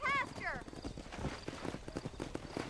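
Steady clip-clopping horse hooves at a walking pace in Red Dead Redemption, with a brief whinny at the start and game music and ambience underneath.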